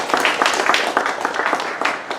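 Luncheon guests clap together in a lively, moderately loud round of applause, with many overlapping hand claps forming a steady, crackling rhythm.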